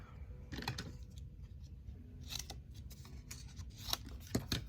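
Scissors snip through crafting paper and cardstock in a few quick, close cuts, with soft handling rustles in between and no talking.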